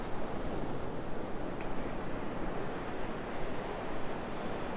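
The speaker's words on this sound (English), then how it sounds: "let's get down here closer to the ocean because that's the view that you want. That's the relaxing sounds and nice view." Ocean waves wash continuously onto Surfside Beach near Myrtle Beach, a broad, steady roar of surf mixed with wind rumble on the microphone.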